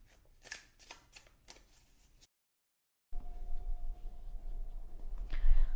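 Tarot and oracle cards are shuffled in quick riffling bursts, a short gap of silence follows, then low handling rustle and soft thumps close by.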